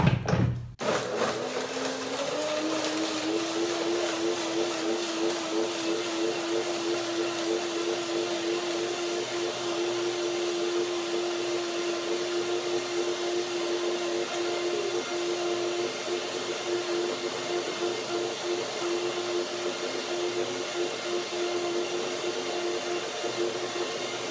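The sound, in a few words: blender blending sunflower seed salad dressing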